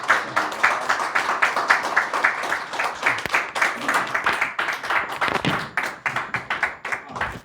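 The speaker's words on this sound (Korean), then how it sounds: "크게 격려해서 박수 한번 더 보내주시면 고맙겠습니다" An audience at a 2023 political lecture forum in a hall applauds to welcome the speaker, with loud, sustained clapping from many hands in rapid, uneven rhythm and faint voices underneath.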